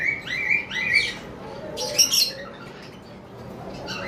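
Cockatiels at a bird farm give shrill rising chirps in quick repeated calls, close and loud, followed by a brief squawk and softer calls.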